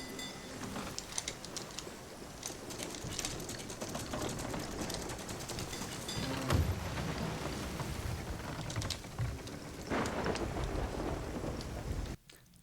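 A thunderstorm in the video game Sea of Thieves, with dense steady rain hiss, rumbling thunder swelling and fading, and scattered droplet patter, all loud and continuous before cutting off abruptly near the end.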